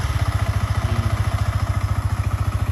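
A stock 2020 Yamaha MT-15 motorcycle engine idling close by, a steady, loud low-pitched pulsing putter with an even rapid rhythm and no talk.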